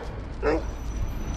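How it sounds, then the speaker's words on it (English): On a city street in Sofia, Bulgaria, a vicious dog lets out a single sharp bark, fairly close, over low steady background noise. "Wow, that was a pretty vicious dog."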